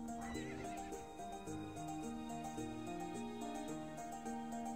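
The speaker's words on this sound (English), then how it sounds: "I wonder if Neil got off that horse yet." A horse whinnies with clip-clopping hooves in the video game To the Moon, a brief near neigh at the start, then steady hoofbeats under a continuous melodic music track.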